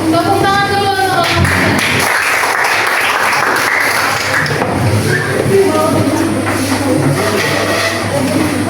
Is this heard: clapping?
yes